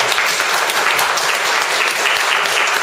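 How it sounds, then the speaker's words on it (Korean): A crowd applauds steadily and loudly at a religious coalition youth corps launch ceremony, welcoming a member from Russia; dense, even clapping fills the whole stretch without a break. "큰 박수로"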